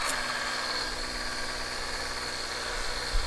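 A Ryobi cordless pressure washer runs with a steady, moderately loud motor hum and hiss, unbroken for a few seconds with a small bump near the end.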